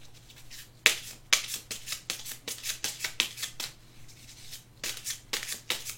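Tarot cards are shuffled by hand in quick, crisp riffling bursts that repeat in a steady rhythm, close and clear over a faint background hum.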